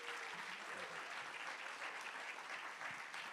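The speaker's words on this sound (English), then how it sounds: "a round of applause for Mr." Audience applause for Mr. Lewis at a Martin Luther King Jr. celebration, a dense, even burst of clapping from a full room that holds steady for several seconds, with faint voices mixed in.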